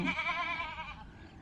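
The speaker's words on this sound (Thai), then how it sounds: "เพื่อจะปล่อยแพะจ้า ปล่อยแพะ" A goat bleats once, close and fairly loud, a wavering cry lasting about a second before trailing off into quiet, as goats are let out of a pen on a deer farm.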